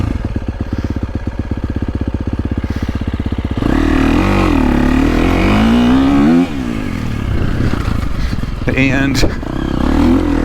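A 2023 KTM 350SXF dirt bike engine, a bike with 15.8 hours on it, runs at a steady rapid idle, then revs up and down loudly while riding. A voice is briefly heard over it.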